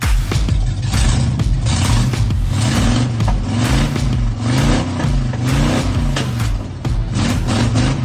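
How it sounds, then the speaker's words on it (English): A 1986 Chevy S10 pickup fitted with a small block Chevy V8 revs loud and close, its throttle blipping in repeated rising and falling surges over a steady rumbling idle, with no voices. "That is his 1986 Chevy S10 with a small block Chevy V8."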